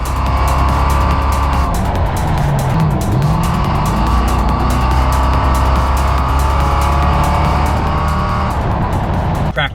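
A Crown Vic race car engine roars continuously at high revs during track practice, pitch rising and falling as it powers out of corners, with faint tire squeal, loud and close throughout.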